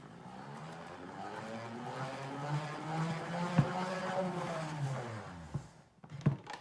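A salad spinner whirs as it spins washed lettuce dry in a kitchen: a steady, droning rotation that rises and falls in pitch for several seconds, then stops with a couple of clunks.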